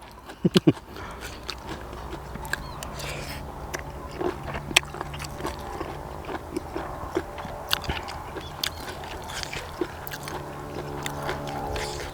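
Crunchy chewing of crisp bitter gourd eaten with pounded apple snails, intermittent close crunches and bites at a quiet level, with soft background noise between them.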